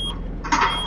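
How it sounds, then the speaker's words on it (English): Low air brake pressure warning beeping in American Truck Simulator, a loud, piercing electronic beep sounding over the engine drone of a truck cab. "That's my air brakes are low on pressure, apparently."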